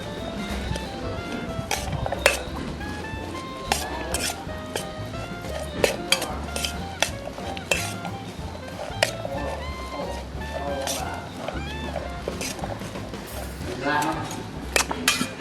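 A spoon repeatedly scrapes and clinks against a bowl while oyster salad is tossed with Isan herbs, spring onions and coriander. The clinks come in an irregular rhythm, close by, with someone talking throughout.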